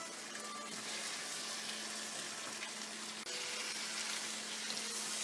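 Steady broadband sizzle of beetroot and radish frying together in a pan for sabzi, a continuous moderate hiss with a faint hum beneath and no speech.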